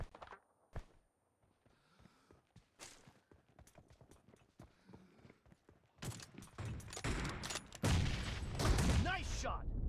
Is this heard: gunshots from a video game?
yes